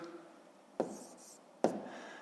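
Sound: writing numbers down

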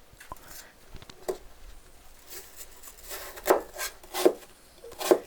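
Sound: knife cutting an apple into small pieces

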